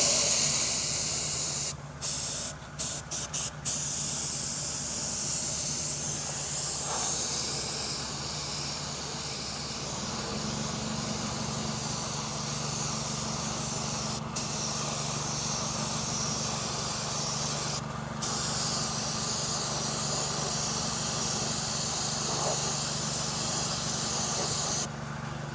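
Steady, close aerosol hiss from a can of Sonic Silver touch-up paint sprayed onto a Toyota Corolla wheel, running nearly nonstop for about 25 seconds with a few very brief breaks.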